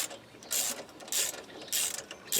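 A ratchet wrench cranks off the 10mm bolt on the ABS sensor bracket of a Ford Escape during front strut work, three loud, fast clicking bursts separated by brief pauses, close up and with no talking.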